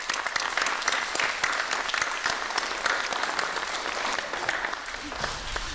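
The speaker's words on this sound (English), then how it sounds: "So give yourselves a round of applause." A fire department recruit academy graduation crowd breaks into loud, dense applause, many sharp individual claps standing out in a steady roar that carries on for several seconds.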